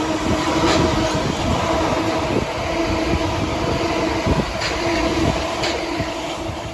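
A delayed Southeastern train service at Thanet Parkway station, platform 2, rumbles steadily and loudly throughout, with faint wheel clicks and metallic knocks over a continuous low drone and no speech.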